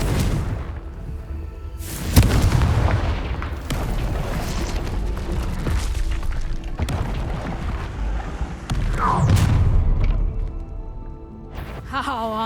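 A Confringo fire spell goes off in Hogwarts Legacy with booming, crackling blasts, loud and layered over a rumbling game soundscape, with spoken voices mixed in.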